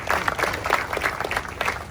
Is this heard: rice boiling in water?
no